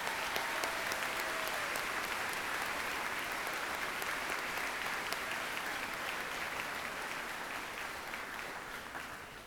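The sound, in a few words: applause at graduation ceremony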